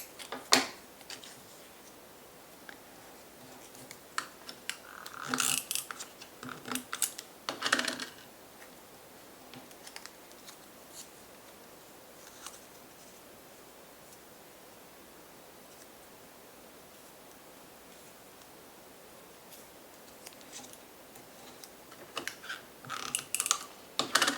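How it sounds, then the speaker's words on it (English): Scissors snip through paper while an iris-folded dinosaur craft is being made, a few short crisp bursts of cutting near the start and end, close and quiet, with near silence between. "I might just measure and just cut off what I need."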